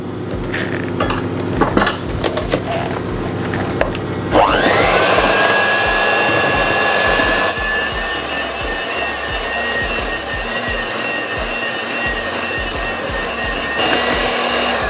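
An electric mixer whirring through red velvet cake batter with a loud, steady motor whine that shifts pitch as it speeds up, over light bowl clatter and no speech.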